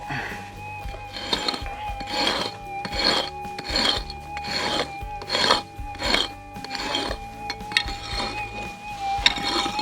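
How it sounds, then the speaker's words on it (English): Repeated rasping strokes scrape soil back in a steady rhythm, about one every second, with a thin electronic tone from a Minelab GPX 6000 metal detector humming steadily underneath. "we'll just scrape a bit more back and see what we can get out"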